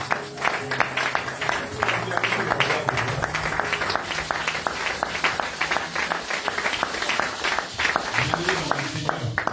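A church congregation claps and cheers together during a service, a dense, steady wash of applause carried on for the whole stretch, with voices mixed through the crowd noise.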